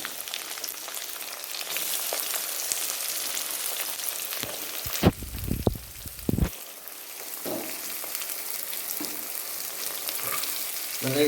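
Cinnamon bark, cumin and cloves sizzle in hot oil for a country chicken curry, then onions drop in with a sudden burst of louder crackling and clatter before settling back into a steady fry.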